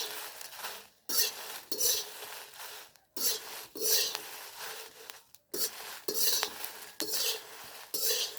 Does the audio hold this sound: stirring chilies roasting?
yes